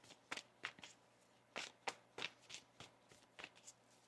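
Tarot cards are shuffled by hand close up, with a series of quick papery riffles and soft snaps in uneven bursts.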